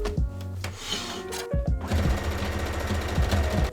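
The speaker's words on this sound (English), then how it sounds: "I'm going to go ahead and stitch right across the top." A sewing machine stitches across the top of a corset bodice in a steady, rapid mechanical chatter, close and fairly loud, with a brief stop-start before running continuously.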